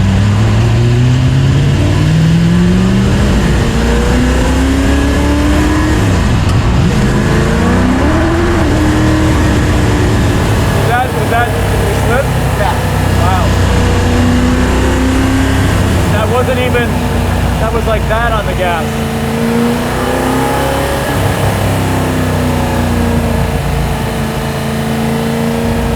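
A car engine drones loudly and steadily, its pitch climbing and dipping as it revs through gears while driving, with occasional voices beneath.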